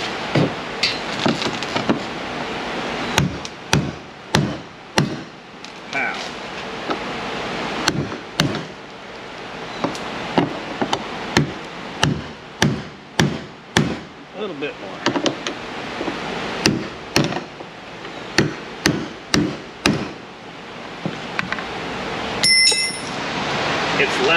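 A steel chisel taps a fuel tank lock ring into place with a long run of sharp, close metallic knocks. The strikes come in irregular bursts, some quick and some spaced out, over a steady background.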